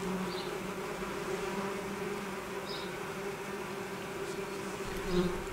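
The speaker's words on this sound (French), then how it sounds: "Ces osmies, c'est des abeilles sauvages solitaires." Steady, continuous buzzing of solitary wild mason bees flying close by at a bee hotel, a droning hum with a few brief louder passes.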